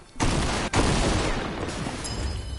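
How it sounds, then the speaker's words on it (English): Dense, rapid gunfire in Fortnite crackles continuously, loud and close, like a sustained burst of shooting. "I literally hear gunshots."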